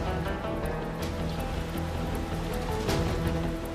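Steady rain falls on an outdoor scene, a dense continuous patter with occasional louder splashes and no voices.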